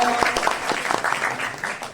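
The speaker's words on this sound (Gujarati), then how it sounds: "આપ જોરદાર તાળીઓથી બતાવો" A brief burst of crowd applause, dense irregular clapping up close, with a voice faintly audible beneath it.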